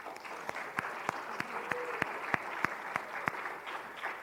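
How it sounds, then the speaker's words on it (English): An audience at a community event gives a round of applause, with moderate clapping and distinct sharp, regularly spaced claps standing out from the steady wash of hands. "Let's have a round of applause for all of you."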